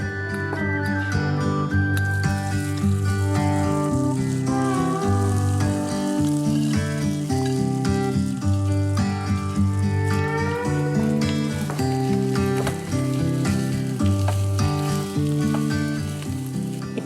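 Steady sizzling of tuna frying in hot oil, heard together with a prominent musical backing that plays throughout.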